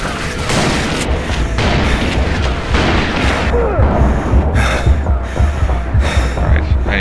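Rifle gunfire in Call of Juarez: Bound in Blood comes as a dense, loud barrage of overlapping shots and booms that carries on without pause.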